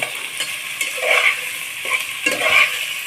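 Spices and vegetables with tomato sizzle in oil for a pabda fish curry, with a loud continuous fry and several scraping stirs of a spatula against the pan.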